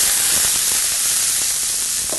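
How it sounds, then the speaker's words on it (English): Hot green beans sizzle loudly in a pan, a dense, continuous hiss and crackle filling the moment close up, with no speech. "now this is hot, so it's going to sizzle a little bit, Tim"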